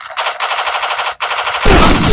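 Rapid automatic gunfire rattles loud and close in the mobile shooter game Forward Assault, two long bursts split by a brief gap, then a heavier, denser barrage takes over.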